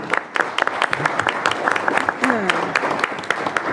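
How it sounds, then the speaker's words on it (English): Audience members clap at a city council meeting. Distinct, fairly sparse hand claps ring out with a few whoops and voices mixed in. "So a big round of applause to you."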